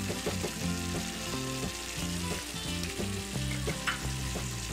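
Aderezo with ají amarillo paste, pepper and cumin frying and browning in a pan, a continuous close sizzle under soft music, with occasional stirring scrapes.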